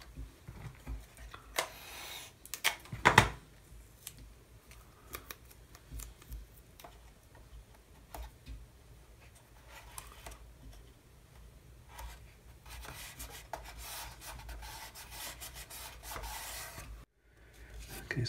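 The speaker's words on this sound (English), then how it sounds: "you can just work the masking tape into all the grooves" A pointed stick pressing and rubbing masking tape into the grooves of an HMS Victory model ship hull, giving faint, intermittent scratchy rubs and small taps, close up with quiet gaps.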